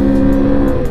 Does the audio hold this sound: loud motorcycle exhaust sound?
yes